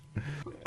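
A single adult cough, short and close, with a low throaty onset and a sharp, loud burst at the end, heard on its own without talk.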